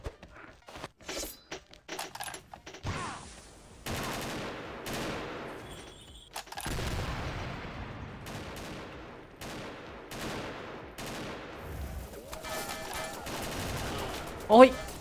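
Bursts of AK rifle gunfire in the shooting game XSHOT: rapid volleys and scattered single shots with clanks and thuds, alternating with quieter stretches over game background noise.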